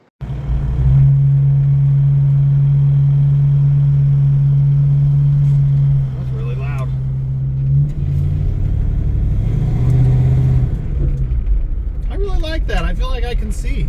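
A 1966 Ford Mustang rolls along a road at night with a steady low engine drone and a sustained hum, the tone shifting slightly midway, while someone talks throughout.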